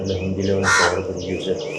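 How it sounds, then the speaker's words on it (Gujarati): Crows cawing on a morning outdoors, a loud nearby caw in the middle with other bird calls around it while someone speaks over the scene. "હવે તો કાગડાનો ને બાગડાનો અવાજ આવે છે હવે"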